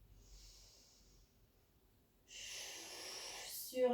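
A person doing a floor stretching exercise breathes out audibly, with a short airy exhale followed by a louder, longer breathy rush close to the microphone and a brief rough snort at the end.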